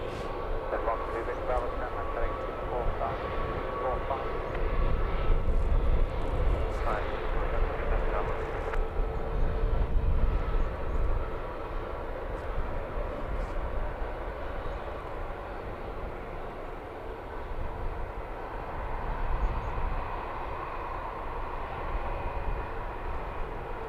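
An Airbus A321neo jet departing Luton Airport produces a sustained, distant engine roar that swells and fades over the whole span, with people talking over it.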